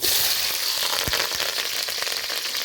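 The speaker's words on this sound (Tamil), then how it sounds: "வெந்தயம் போட போகிறோம் வெந்தயம் நல்லா பொறிஞ்சு வரணும்" Fenugreek seeds, fennel and green chilli fry in hot oil in a village-style kitchen making tamarind curry, giving a close, continuous crackling sizzle with a few sharper pops and no voices.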